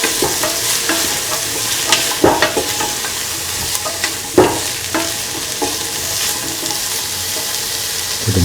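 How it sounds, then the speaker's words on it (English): Carrots sautéing in a pan for a carrot, bottle gourd and coconut milk stew: a loud, close, continuous sizzle with occasional knocks and scrapes of the stirring spoon, and nobody speaking. "Sauteing it thoroughly."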